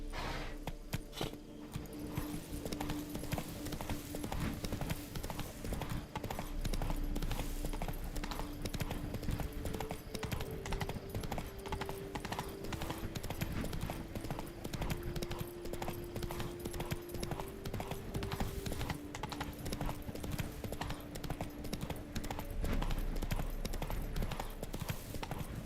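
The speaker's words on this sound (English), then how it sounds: "Whoa there, Roach" Horse hooves clip-clop steadily and continuously in the Witcher 3 game, a rhythmic trotting gait under a layer of ambient game music, moderately loud throughout.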